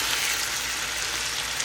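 Philippine-style noodles with onions and peppers stir-frying in a pan, giving a steady, close, hissing sizzle with no talk.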